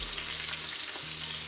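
Chopped onion and green chillies fry in hot oil, giving a dense, even sizzle that carries on without a break throughout, up close and with no voices.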